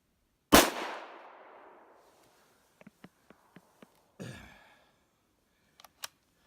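A Remington rifle fires a single loud, close shot at a range during sighting in, its sharp crack decaying into a short echo, followed by faint clicks and a second quieter thump.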